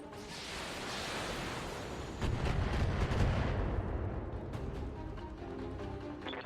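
A battle mech takes a heavy hit in the BattleTech video game: a deep, loud, rumbling impact swells into a sustained roar of explosive noise, with sharp crackling reports scattered through the fading tail.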